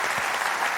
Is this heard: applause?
yes